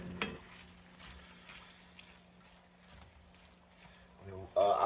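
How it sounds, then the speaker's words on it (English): Chopped garlic, about four cloves, is stirred into ground meat browning in a pan for goulash, giving a soft steady sizzle and scraping stir under low background talk. "4 cloves of garlic chopped up. I'll throw that in there. Mix that up a little bit."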